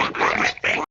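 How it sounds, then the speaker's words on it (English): A pig grunting in a harsh, raspy burst, loud and close, broken by a brief pause before a second rough grunt; no talk. "Pigs."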